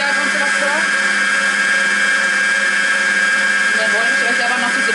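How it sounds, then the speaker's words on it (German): A Klarstein Allegra Rossa stand mixer whips cream with a loud, steady high-pitched motor whine that holds constant from start to finish, close up and without a break. "Ich schlage jetzt die Sahne noch kurz weiter,"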